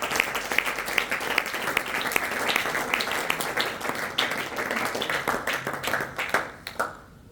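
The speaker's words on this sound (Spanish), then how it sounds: "Dele ofrenda de palmas a Dios" A church congregation clapping as an offering of praise to God, a dense, lively burst of many hands clapping together close by, tapering off at the end.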